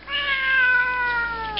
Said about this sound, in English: those are fighting meows